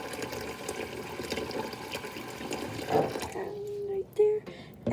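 Tap water runs steadily into a cooking pot being filled about halfway for boiling macaroni, a broad continuous rush that thins and ends with a few short tonal gurgles as the pot fills.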